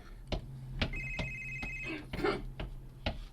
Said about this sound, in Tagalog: Huwag imong cellphone. Ring man dong!